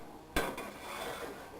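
Spatula chopping through scrambled egg with soy sauce in a non-stick frying pan, one sharp scrape-knock followed by a fainter second tap and soft sizzling, quiet and close.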